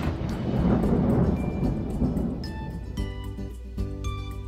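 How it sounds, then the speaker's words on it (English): Deep, rolling thunder rumbles low and steady, swelling and fading over a few seconds with faint crackling texture on top. "when it storms, he hears the rumble of thunder as lightning cracks in the sky"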